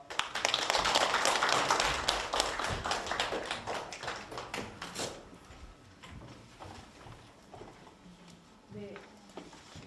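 An audience applauds after a lecture at a Gaya studies academy forum, a burst of clapping that is strongest at first and then thins and fades, with some voices underneath.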